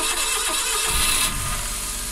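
A Suzuki Every DA62V van with a weak battery left unused for four months cranks and fires up on a jump starter. A steady electrical hum gives way to a brief engine catch at close range.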